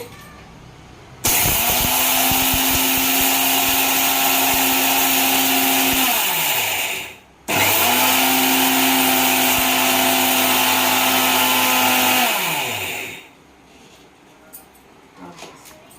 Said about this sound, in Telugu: ఇది పొడి చేసుకుని వస్తాను. పొడి ప్రిపేర్ చేసుకుందామండి.